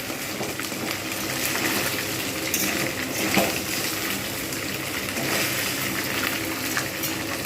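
Continuous close sizzling and crackling of bhetki fish bones frying in a hot pan, with occasional scraping or light clatter over the steady frying noise.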